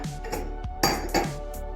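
Spoon clinking against a bowl while strawberries and fruit are stirred into pudding, a few brief scrapes and taps close by with no talking.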